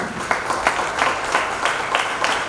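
Audience applause at a Marathi memorial trust programme, a steady wash of many hands clapping with regular swells, moderately loud and continuous, with no speech over it.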